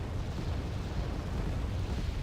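Explosions from an attack helicopter's firing runs in Wargame Red Dragon form a dense, continuous rumbling roar that stays loud and steady throughout.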